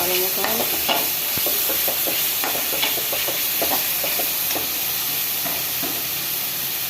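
Spices and egg being stir-fried in a pan during home cooking, a continuous sizzle with repeated scraping and clinking of a spatula against the pan, close and steady with no talking.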